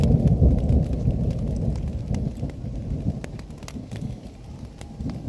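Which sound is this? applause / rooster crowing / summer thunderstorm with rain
summer thunderstorm with rain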